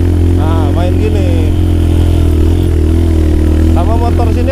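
A motorcycle with a stock exhaust runs steadily on a hilly red dirt road, its low engine drone constant underneath while someone talks over it.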